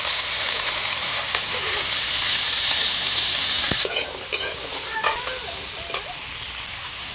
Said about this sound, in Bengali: গাজর ডিম কড়াইটা ভেজে নেব